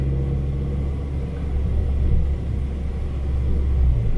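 A 2015 Fiat 500 Abarth engine runs at a steady cruise, giving a continuous low rumble with road noise that stays even and close throughout, with no talking.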